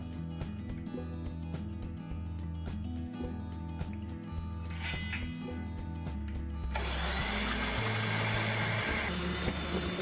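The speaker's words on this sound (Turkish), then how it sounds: "Şimdi şekerimi koyuyorum. Ve bunları bir güzel çırpacağım." An electric mixer whisks sugar for a hedgehog cake until foamy, giving a steady motor whine with a rhythmic low hum; partway through the sound grows louder and brighter as the beaters dig into the mixture.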